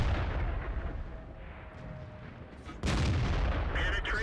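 Tank cannon fire in World of Tanks from an E-25 tank destroyer, a rumbling gameplay background that swells into a sharp, loud blast near the end.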